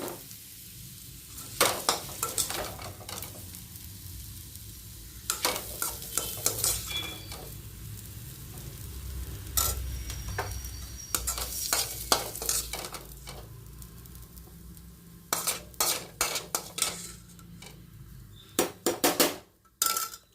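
A pan of potatoes and onions being stir-fried, with a steady soft sizzle beneath repeated sharp scrapes and clinks of a spatula against the metal, coming in clustered bursts close by.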